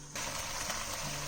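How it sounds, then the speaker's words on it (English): Water poured into a pan of bottle gourd Manchurian gravy, a steady splashing gush starting after a short pause and running continuously to the end, fairly close and alone. "Add a little bit of water to this."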